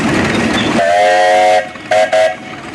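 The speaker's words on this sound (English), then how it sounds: "Let's hear the 110's whistle." Steam whistle of the 110 steam engine at a threshermen's reunion, one long steady blast followed by two short toots, loud and close, with engine chuffing underneath.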